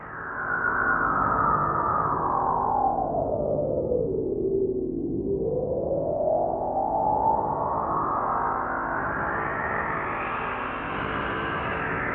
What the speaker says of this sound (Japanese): フィルターボタンを押しながらリバーブノブで調整するとフィルター Q やレゾナンス周波数を調整できます